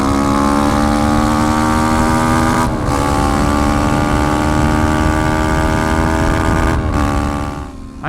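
A Suzuki DRZ motorcycle fitted with an unusual sprocket setup revs hard from up close, its engine climbing steadily with two brief dips as it shifts gears, then fading out at the end as it hits fuel cut around 77 mph.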